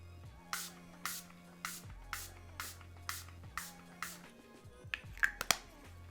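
Repeated short bursts of fine makeup setting spray, about eight quick puffs at a steady rhythm, fairly close and soft over a low background hum.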